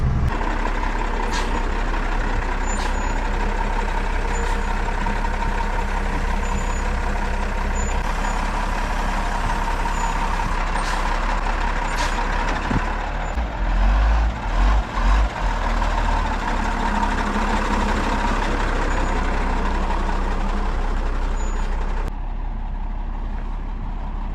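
A military surplus wrecker truck drives along, its heavy engine droning steadily and loudly from inside the cab, with a few low thumps and rattles partway through and no talking.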